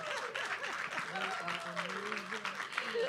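Audience applause for a speaker at a maternal and child health conference, faint and distant clapping running under a nearby voice talking throughout.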